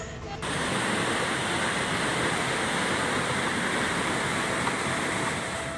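Floodwater of the Aik Garoga river rushing during a flash flood in Batang Toru, South Tapanuli, North Sumatra, carrying timber debris toward homes: a loud, steady broadband roar that fills the whole stretch without pause.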